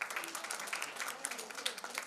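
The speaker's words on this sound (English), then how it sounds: "she definitely deserves a big round of applause" Audience at a medical CME conference on ultrasound in pregnancy in Bhopal applauds a speaker, a faint, distant, dense patter of many hands that stays steady for about two seconds.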